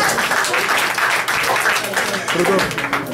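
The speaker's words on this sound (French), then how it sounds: "Acclamez le Seigneur pour moi." A church congregation breaks into applause, dense clapping filling the space with a voice speaking over it throughout.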